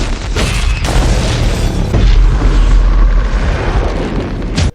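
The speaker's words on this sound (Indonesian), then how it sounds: "salah satu dari mobil mereka terkena dan meledak" In an action film scene, a car hit by gunfire explodes with a loud, sustained booming blast and rumbling roar lasting several seconds, cutting off abruptly at the end.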